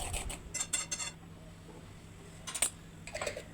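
A utensil scrapes and clinks against a pan while spiced eggplant is stirred, a few short, light metallic bursts, close but fairly quiet, with no talking.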